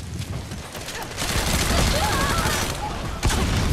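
Gunfire and sniper shots in the Metal Gear Online video game, a dense continuous burst of shots with a sharp crack near the end, over game noise.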